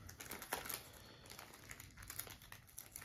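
A Yu-Gi-Oh Invasion of Chaos 25th Anniversary booster pack's foil wrapper crinkles and rustles close up, in quick irregular bursts for about three seconds with no talking.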